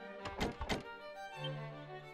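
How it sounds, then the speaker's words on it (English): A locked door rattles in the Dragon Quest III HD-2D Remake game: two or three quick, loud wooden knocks and clunks in close succession, then a soft sustained tone fades out with no talking. "this is one of the locked doors we can't open"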